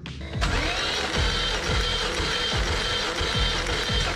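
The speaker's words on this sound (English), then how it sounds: "now I'm going to crank it over and listen to the engine crank over 5 times" An engine being cranked over by the starter during a compression test, with a first cylinder reading 125 PSI; a close, loud mechanical whir with a rhythmic pulse of about five compression strokes, starting abruptly and running steadily without speech.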